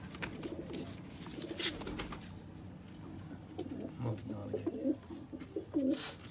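Pearl-marked Sialkoti pigeons in a loft coo faintly in low, rolling phrases that grow clearer toward the end, over a quiet murmur of background voices.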